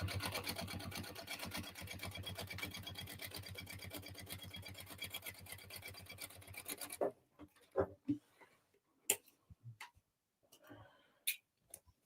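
Sewing machine running a steady, rapid stitch through vinyl bag pieces for a second reinforcing row, loud and close for about seven seconds, then stopping, followed by a few scattered clicks and handling knocks.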